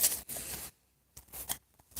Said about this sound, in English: Now I'll do one last shuffle in the middle.